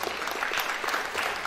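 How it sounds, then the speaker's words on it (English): An audience at a school Science Day event applauds the winning kids and their teachers, dense sustained clapping filling the room from start to finish. "give a big round of applause to all these wonderful kids and their teachers"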